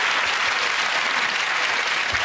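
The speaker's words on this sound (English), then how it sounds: "Ironically, he gets a round of applause for that." Television comedy panel show studio audience bursts into loud, dense applause, a continuous wash of clapping filling the whole stretch without voices.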